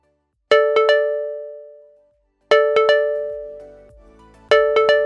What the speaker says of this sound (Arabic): ولما يجيلك عرض من كابتن هتسمع صوت التنبيه ده